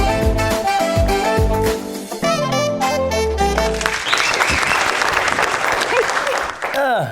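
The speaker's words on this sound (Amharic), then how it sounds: "ይሄ ጭብጨባ የበዛው ዛሬ ስለአማረብን" A studio audience at a talk show breaks into loud, dense clapping that follows a short musical passage and carries on for about three seconds before fading.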